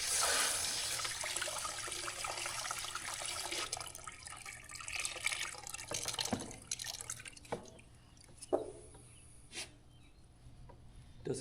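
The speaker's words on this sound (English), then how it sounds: "Seems like a lot slower of a drip now." Water drips steadily from a tap or outlet during farm work, a run of close, distinct drops over a continuous wash of running liquid that thins out and grows sparser toward the end.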